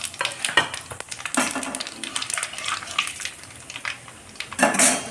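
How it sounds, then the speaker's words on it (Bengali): Bay leaf, dried red chilli and black cumin seeds crackle in hot oil while a spoon scrapes and clinks against the pan in irregular bursts, close and moderately loud, no voices. "তেল গরম হয়ে আসছে, তেজপাতা, শুকনো লঙ্কা, কালো জিরে দিয়ে দিচ্ছি।"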